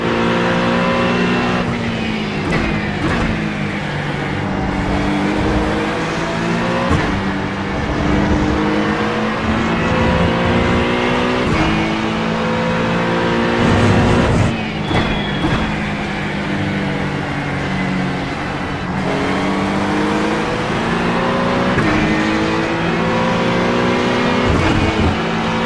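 GT3 race car engines at Mugello in the iRacing simulator, loud and continuous near engine drone with rising and falling revs as gears shift, cars running close together throughout.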